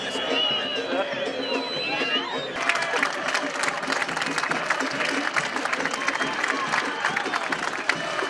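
Crowd applause and cheering fill the space at a basketball game celebrating an unbeaten championship, dense and continuous, with a crowd roaring over the clapping and a sudden rise in intensity partway through.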